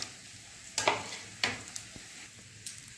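Whole cumin and garam masala dropped into hot oil in a kadai with dried red chilli and bay leaf, giving faint crackling sizzles with a few sharp pops and stirring scrapes.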